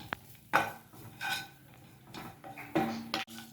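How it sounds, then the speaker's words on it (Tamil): Dried red chillies and asafoetida being roasted in a pan, heard as a few distinct metallic clinks and scrapes of a spoon against the pan, close and intermittent, with almost no sizzle. "வரமிளகாயும் பெருங்காயமும் கொஞ்சம் வறுத்துக்கிறோம்"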